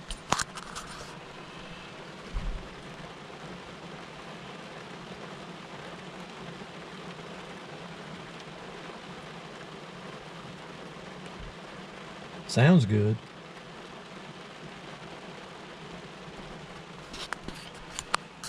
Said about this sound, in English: As soon as I started to tie this on, it started pouring down rain.